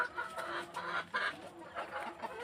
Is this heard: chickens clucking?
yes